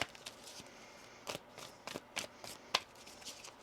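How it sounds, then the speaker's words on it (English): Soft riffling and papery flicks of tarot cards being shuffled close by, with a few sharper snaps in irregular bursts, fairly quiet, no talking. "One more shuffle."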